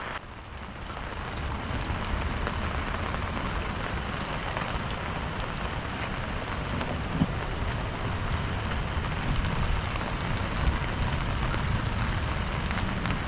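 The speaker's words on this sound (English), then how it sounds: "Oh geez, raining, eh?" Steady rain patters on surfaces all around on Stradbroke Island, a constant dense hiss with occasional louder drops, no voices.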